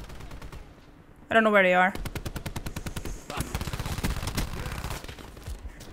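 Rapid automatic gunfire from hip-firing in the video game Black Ops 4, several bursts of close, loud shots following a short electronic tone, with a player talking over it.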